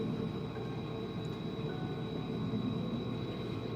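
Model railroad train running along its track, a steady continuous rumble with faint whine, moderately close and without talk.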